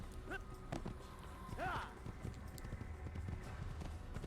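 Horse hooves clip-clop in the Assassin's Creed video game, a few spaced hoofbeats amid game ambience, with a brief whinny-like call and people talking over it.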